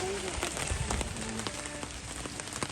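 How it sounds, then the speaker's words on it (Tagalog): Rain falls outdoors while people set up camp on a trip near Drumheller, Alberta, a steady dense patter with scattered heavier drops throughout and faint voices underneath. "Inabot na kami ng ulan"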